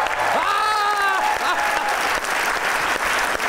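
A studio audience at a talk show claps in sustained, dense applause, with a brief raised voice over the start of the clapping.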